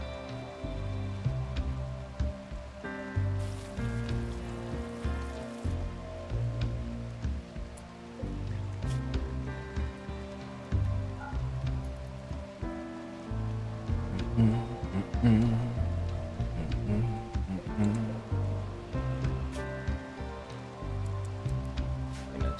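Steady rain patters continuously in the Rimworld video game, a dense even hiss layered under looping background music, with no pauses for its full length.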